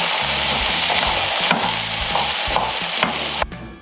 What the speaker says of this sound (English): then you're gonna just saute this until the onion is soft